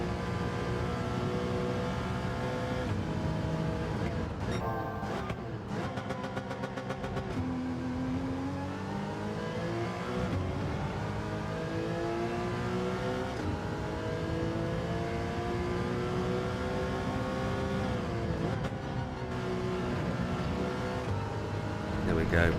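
A McLaren race car engine in a racing video game runs steadily throughout, its pitch climbing and falling with rising revs and gear shifts, loud and continuous with bursts of rapid limiter-like stutter near the start.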